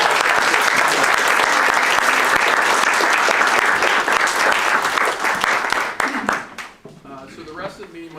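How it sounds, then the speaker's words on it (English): Board of Supervisors meeting audience giving a round of applause, loud close clapping filling the room, then fading out as a voice begins speaking. "Would you give her one more round of applause?"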